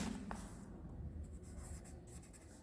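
Pen or marker writing out a decimal length problem about a notebook during a Class 6 maths lesson, a steady scratchy stroking that runs continuously at close range with no talk over it.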